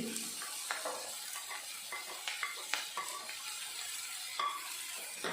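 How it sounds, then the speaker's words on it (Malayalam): Chili, garlic and ginger sautéing with softened tomato in a pan over low flame for Kerala-style egg roast, a steady sizzle broken by repeated scraping stirs of a spoon against the pan, close and without talk. "ഇതൊന്ന് വഴറ്റിയെടുക്കണം. ഈ ലോ ഫ്ലെയിമിലിടണം."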